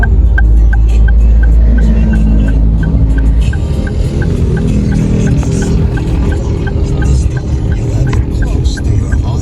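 Steady, loud road and engine rumble from a car cruising on a highway, a continuous wash of tire and wind noise that stays even throughout, with no clear talking.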